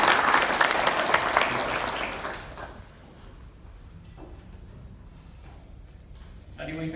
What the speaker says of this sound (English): Why don't please you stand up and just show the face of the audience here to give you another round of applause